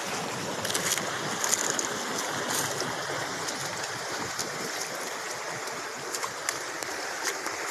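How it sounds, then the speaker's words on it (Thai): Water in a small forest stream flows steadily, with a continuous close rushing wash and a few light splashes and drips on top. "ส่วนน้ำทางนี้ก็จะไหลลงไปทะลุใต้นู้นนะครับ"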